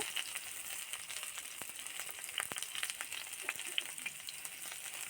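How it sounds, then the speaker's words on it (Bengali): Eggplant pieces frying in a pan give a steady, faint sizzle with scattered crackles and pops throughout, occasional soft scraping from stirring, no voices. "বেগুনটা দিয়ে দেওয়ার পর আবার আরেকটুভাবে ভালো করে নাড়াচাড়া করে নেব। আরেকটু ভাজা ভাজা হয়ে আসলে এইবার আমি লবণ দিয়ে দেব।"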